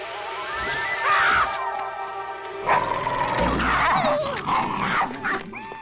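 Dog growling and snarling in short rough bursts, close and fairly loud, with whining, yelping tones in between and other cartoon sounds mixed in.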